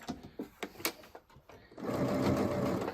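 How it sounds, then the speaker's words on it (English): A Pfaff sewing machine stitching decorative stitches, with a few separate mechanical clunks and short bursts followed by a close, steady whirring run of rapid needle strokes. "this machine is by Pfaff. It's got 198 decorative stitches on it."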